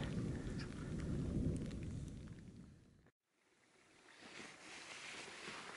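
Deep, rolling thunder in the Sawtooth Mountains, Idaho, rumbles low and steady for a few seconds, breaks off into a brief hush, then a softer rumble returns under light rain.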